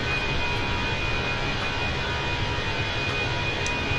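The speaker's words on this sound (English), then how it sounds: "The engines, they just sound like they're at full power." Airbus A320 jet engines drone at full power in flight, heard in Microsoft Flight Simulator 2020 as a steady, loud, broad roar with a thin constant whine and no talk over it.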